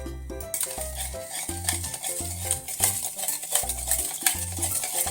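Salt and water are stirred together for pickling daikon, with a utensil clinking and scraping rhythmically against a bowl, close and moderately loud, over a faint background hiss.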